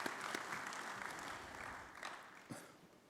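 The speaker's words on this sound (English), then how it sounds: "let me please give a big hand of applause for Peter" A forum audience claps for Peter at an industry chat, a dense steady patter of many hands, moderately distant and fairly faint, with no voices over it.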